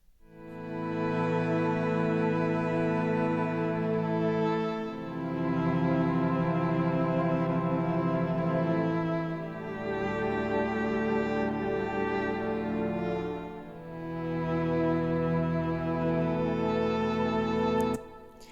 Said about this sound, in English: I played some string sounds and basically I turned it to a pad sounds.